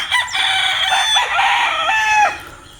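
A rooster crows loudly and close at a small backyard chicken coop with a mountain view, a long drawn-out call, with hens clucking nearby and no talk.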